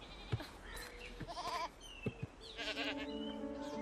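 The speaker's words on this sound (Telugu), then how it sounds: "అమ్మయ్యా, గొర్రెల్ని గుద్దా." Sheep bleat after being struck by a car in a movie scene, with several wavering cries at close range among short thumps and noises.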